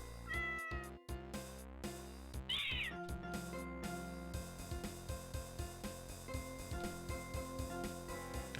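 In the video game Horace, a cat gives a single short, bright meow over steady, layered game music, with no one talking.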